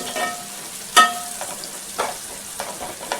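Turmeric and spices cooking in hot oil in a pan for a tuna fish curry, a soft steady sizzle with a sharp clink of a spoon against the pan and a few quieter scraping stirs.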